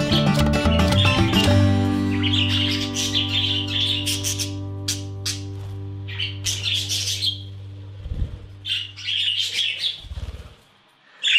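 A pet budgie chirps and chatters in rapid bursts of bright, close tweets and warbles over steady tonal background sounds, pausing briefly before resuming.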